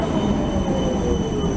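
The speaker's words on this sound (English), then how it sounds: "This particular tram is a number 4. No, it's not. It's a number 6." A Budapest number 6 tram runs along its track, giving a loud, steady rumble with a thin high wheel squeal held throughout.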